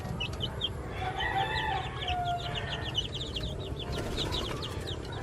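Baby labuyo wild junglefowl chicks cluck and peep in quick repeated bursts, moderately close, over a steady low farmyard rumble with no talking.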